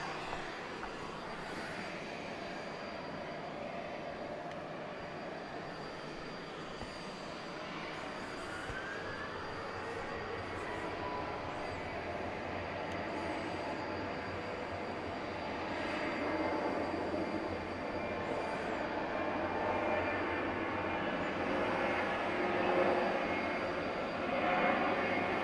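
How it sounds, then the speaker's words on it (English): Delta Boeing 737-900 jet taking off at night, a broad, steady engine roar at moderate distance that slowly builds, with a faint voice talking now and then. "Delta 656 going out to San Francisco 8 right, there you go. has been cleared for takeoff"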